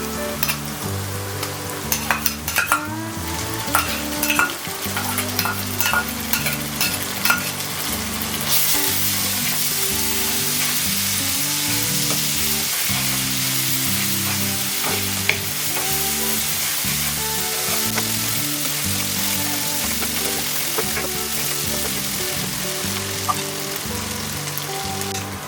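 Ginger garlic paste fries in a pot with a dense, continuous loud sizzle, while a spoon scrapes and stirs in irregular knocks and clatters throughout.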